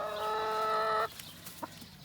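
Backyard chickens call close by: a drawn-out, tonal cackle fills the first second, then stops abruptly, followed by a few soft, scattered clucks.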